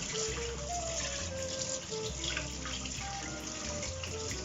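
Vegetable stems being rinsed under a running kitchen tap, a steady, close water stream splashing and gushing continuously over the produce and into the sink.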